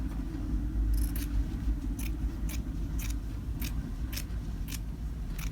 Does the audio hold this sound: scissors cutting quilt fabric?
yes